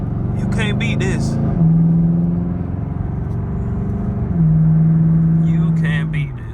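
A Chevrolet Camaro SS V8 cruising at sunset, heard from inside as a steady low rumble with two swells in engine drone, while someone talks over parts of it.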